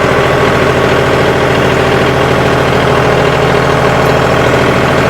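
A John Deere 5210 4WD tractor engine holds steady at 1600 RPM, a loud, continuous diesel drone with a low, even throb and no pauses.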